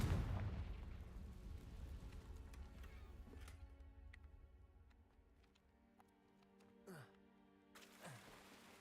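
A Confringo blasting spell detonates in the video game Hogwarts Legacy, a loud booming explosion that rumbles and fades over several seconds, followed by a couple of sharper cracks and bursts.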